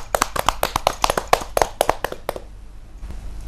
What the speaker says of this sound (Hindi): जोरदार तालियों से अभिनंदन कीजिए